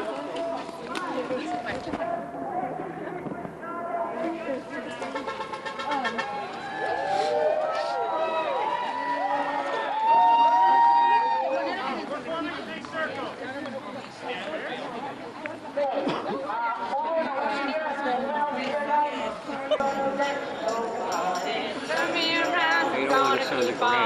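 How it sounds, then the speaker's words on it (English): A protest crowd of about 200 people at the Lathrop Homes shouting and chanting together, a dense wash of many voices rising and falling, with nearby individual voices speaking over the din. "The crowd's still running at about 200 strong, making its feelings very clearly known."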